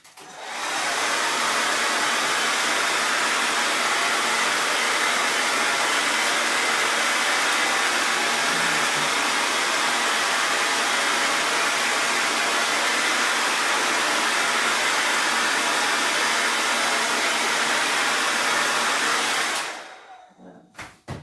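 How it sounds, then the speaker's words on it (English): A hair dryer blows steadily on a clay block at close range, a loud continuous broadband whoosh lasting about nineteen seconds before switching off abruptly. "I want to see if I blow dry this block."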